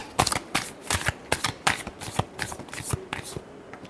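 Tarot cards being shuffled by hand, a dense flurry of crisp riffling slaps and flicks close up, steady and continuous for a few seconds.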